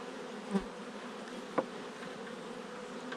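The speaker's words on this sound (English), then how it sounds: "The bees are a little disoriented after rearranging their hive and being taken to the new area." Continuous buzzing of many honeybees swarming close by around a newly relocated hive, a steady insect drone with a couple of brief louder passes.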